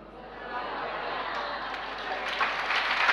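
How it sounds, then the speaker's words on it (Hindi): An audience applauds during a Jain religious discourse by Suneel Sagar Ji Maharaj, a steady wash of clapping that swells gradually and grows louder toward the end. "खुद ही तालियां बजा ली"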